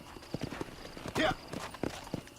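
A horse's hooves clip-clop in a quick, uneven walking rhythm in Red Dead Redemption, with a short burst of noise midway and faint voices talking underneath.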